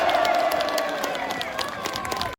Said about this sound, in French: Applaudissez Charles Gave.